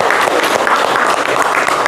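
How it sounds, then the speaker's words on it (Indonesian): Classmates in a school lesson give a short burst of applause for a fellow student, a loud, close, continuous patter of many hands. "Kasih tepuk applause dulu dong buat temennya."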